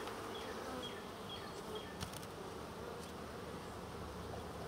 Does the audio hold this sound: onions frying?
no